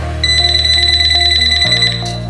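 A loud, steady electronic beeping tone pulses rapidly from a Nokta Accupoint metal detector in dual-tone discrimination mode, then shifts abruptly to a lower pitch near the end.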